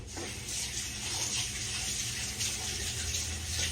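Hands being rinsed under a running kitchen tap, a steady close splashing rush of water that continues without a break, with no talk over it.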